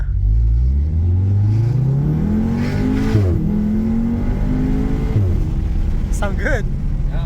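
An Audi TTS with a Cobra catback exhaust revs hard through a pull, its engine note climbing steadily, dropping briefly at a shift and climbing again, loud and close.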